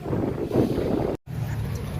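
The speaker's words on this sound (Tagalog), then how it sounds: "malamig pa ang simoy ng hangin dito" Blustery wind rushing against the microphone outdoors at Luneta Park in Manila, a continuous low roar that briefly cuts out before resuming.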